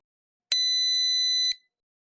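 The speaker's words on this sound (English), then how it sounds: "This beeping is to let you know that the door is open and the cycle is paused." Dishwasher beeping because its door was opened mid-cycle, pausing the wash: a single clear electronic tone lasting about a second, alone in silence.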